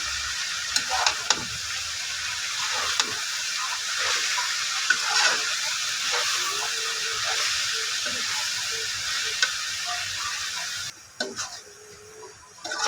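Water spinach leaves added to a pan of frying fish, onions and spices, a steady hiss and sizzle with stirring scrapes, which quiets near the end.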